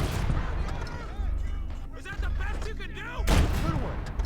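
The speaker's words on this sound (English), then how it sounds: "That shot did some damage." Bursts of rifle and cannon fire in the World War II strategy game Gates of Hell: Liberation during a defense at Cisbecq, rolling volleys with a heavy blast near the end, while someone talks over the battle.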